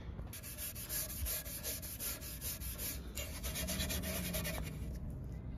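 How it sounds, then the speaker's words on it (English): A scotch pad scuffs a car body panel on an Escort Mk5 RS2000 being prepared for paint, producing rhythmic, raspy back-and-forth rubbing strokes that are soft and close, with no voices. "Give her a bit of a scotch now and a degrease and a panel wipe"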